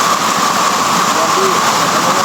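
Heavy rain pours down steadily as a loud, even hiss that holds without a break, with a faint engine-like hum low underneath.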